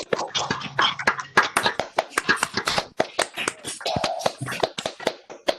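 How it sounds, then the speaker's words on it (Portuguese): A webinar audience on a chemistry-teaching talk claps for the guest speaker over unmuted microphones, a dense, uneven patter of many hands for several seconds, close and fairly loud with no voices. "deem uma grande salva de palmas ao nosso convidado"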